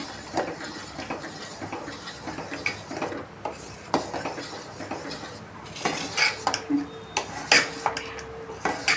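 A utensil stirs jaggery in a cooking pot with quiet scraping and clinking, in irregular strokes of metal against the pot. A few sharper clanks come near the end.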